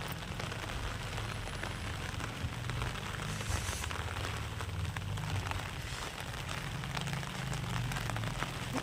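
Steady rain falls without a break, a soft, even hiss of drops on surfaces that stays fairly faint and constant throughout.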